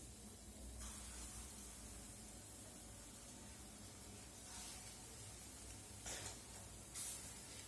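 Green chili fritters (kancha lonka fuluri) frying in hot oil, a steady hissing sizzle running throughout with a few louder spattering bursts near the end, no talking.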